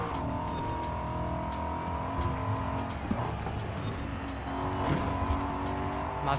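Racing car in Forza Horizon 5 on its final lap, engine droning steadily and loud, with tires hissing and squealing through corners in a continuous stream of racing noise.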